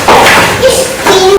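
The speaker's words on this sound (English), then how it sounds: "So I'm cutting the tomato for sabzi for the curry." A knife slices a tomato into medium pieces on a board for a vegetable curry, giving a few close, loud thuds and taps over a steady, busy background with some faint voice-like tones.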